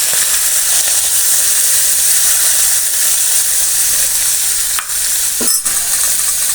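Mussels stir-frying in a hot pan with garlic and chilies, a loud, steady sizzle and hiss close by, broken near the end by a couple of brief scraping stirs.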